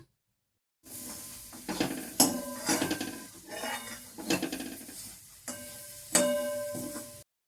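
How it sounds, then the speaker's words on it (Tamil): Spoon scraping and clinking in a pan while grated coconut, jaggery and cardamom powder are stirred together, close, irregular metallic knocks and scrapes with short pauses. "தேங்காய் வெல்லம் ஏலப்பொடி மூன்றையும் போடவும் சுருளை வதக்கவும்"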